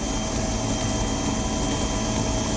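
Helicopter drone over a huge Mahakumbh pilgrim crowd while it showers flower petals, a steady, dense engine and rotor roar with no break and no voices.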